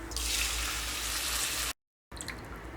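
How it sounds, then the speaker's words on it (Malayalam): Milk pours into a pan of ghee-roasted vermicelli for chocolate semiya payasam, making a loud continuous splashing rush that stops abruptly, then a short resumed gurgle. "അപ്പോൾ നമുക്ക് പാൽ ഇതിലേക്ക് ഒഴിച്ചു കൊടുക്കുക."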